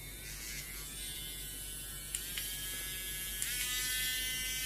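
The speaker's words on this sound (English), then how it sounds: "At maximum revs this cuts through quite nicely." A small electric drill spins at maximum revs with a carbide-tipped bit, boring a 1 mm hole in a model tank part. It makes a steady high-pitched whine, with a few brief clicks and pitch shifts as the bit bites.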